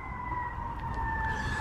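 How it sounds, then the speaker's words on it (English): Fire engine sirens sound in a steady held wail over loud traffic rumble on a street, fairly close and filling the background. "fire engines."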